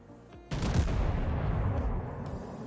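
The Russian Imperial battleship Pyotr Velikiy fires a heavy naval gun salvo in World of Warships, a sudden loud boom that rolls into a sustained rumbling roar.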